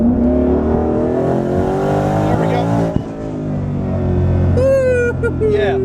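Twin-turbo 2019 Mustang tuned past 800 wheel horsepower accelerating hard, heard from inside the car as a loud, rising engine drone with a brief shift break, with people talking over it.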